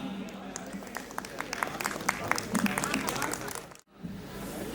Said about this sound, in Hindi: आइए जोरदार तालियों का संग स्वागत करते हैं श्री इंदु पांडे जी का माइक पर